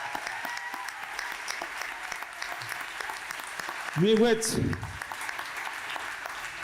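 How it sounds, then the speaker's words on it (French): Audience applause at a culture awards ceremony rolls on steadily at moderate distance, while a voice speaks over it and a brief louder vocal exclamation rises partway through. "Une bonne main d'applaudissements."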